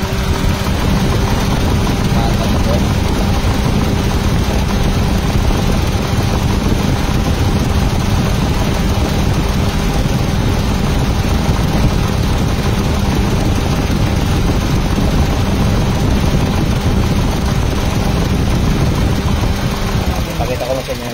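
A Toyota Wigo car engine, which has had overheating and wiring trouble, idles steadily up close for about twenty seconds, a constant loud mechanical drone with a faint voice in the background.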